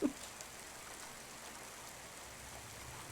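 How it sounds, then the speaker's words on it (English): Rain in the Cloudpunk video game, a faint, steady hiss of falling drops on surfaces, continuous and even with no other sounds. "Then again, I like the sound of rain"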